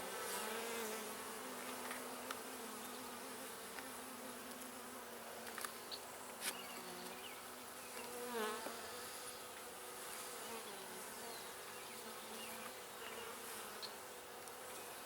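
A dense, steady drone of honey bees buzzing around an open beehive during an inspection, close and continuous, with individual bees whining past now and then and no talking.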